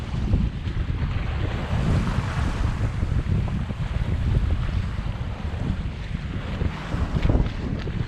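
Strong wind buffeting the microphone while a Tomahawk sailboat beats against the tide in an estuary, a steady loud rumbling roar with water wash beneath and no talking.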